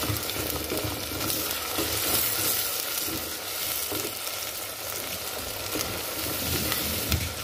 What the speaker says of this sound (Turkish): Bamya yapıyor arkadaşlar. Ben de karıştırıyorum.